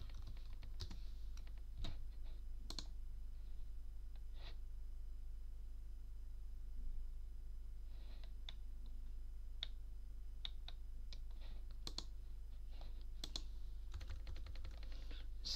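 Pinyin being typed on a computer keyboard: scattered, crisp keystroke clicks come singly and in short bursts over a low steady hum, with no talking.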